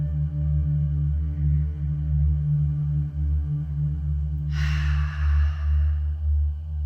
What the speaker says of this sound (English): take a deep breath. Make that breath audible